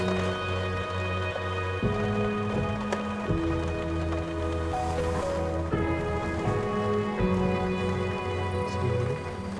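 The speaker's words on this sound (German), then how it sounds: "Genau jetzt hat es gerade angefangen, nochmal stärker zu regnen." Rain drumming steadily on a van roof, a constant dense patter heard from inside, with droning tonal hums shifting underneath.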